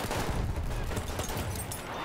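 Battlefield 1 PC multiplayer gunfire: a dense, continuous clatter of rapid shots with overlapping battle noise, loud and close throughout with no clear pauses.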